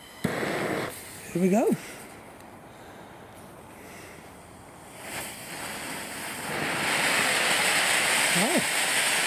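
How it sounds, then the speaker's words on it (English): A Standard Fireworks Peacock Fountain firework is lit after a brief spoken line. Its spraying hiss swells from quiet to a loud, sustained broadband rush, with outdoor wind and short voices in between. "So this is the Peacock Fountain from Standard Fireworks."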